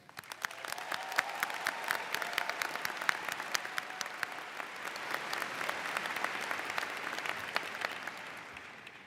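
A large commencement audience applauds the graduating class of 2023, dense clapping swelling quickly from the start and holding steady with sharp individual claps standing out, fading slightly near the end.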